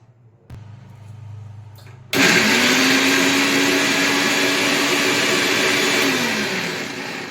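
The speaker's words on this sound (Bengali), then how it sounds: "এটা আমি মিক্সিতে পিষে নেব।" Electric mixer grinder grinding ginger, garlic and green chili: after a short low hum, a loud steady whirring roar cuts in and runs continuously to the end, close up, with no talk.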